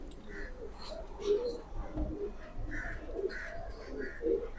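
A pet pigeon coos in a series of soft, low, rolling calls at close range, repeating at an uneven pace over a quiet background, with no clear talking.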